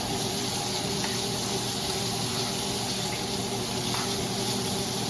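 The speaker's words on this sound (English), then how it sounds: "This thing is still sizzling." A steak sizzling in a hot pan with butter, a loud, continuous crackling hiss held close and steady, with faint pops and no speech.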